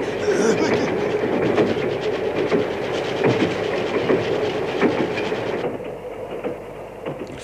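Cartoon train rolling steadily along the rails with a continuous rumble and rhythmic clickety-clack, loud and close throughout, easing slightly in the final seconds.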